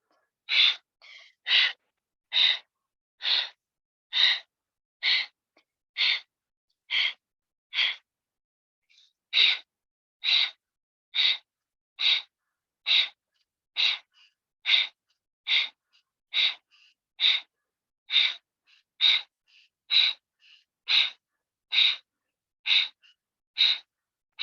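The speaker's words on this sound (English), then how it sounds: "Exhale, breath of fire, slow or fast." Rapid, rhythmic breath-of-fire exhalations in a Kundalini yoga session, a long steady train of sharp nasal puffs at about one per second, close and clear with a brief pause partway through, no talking.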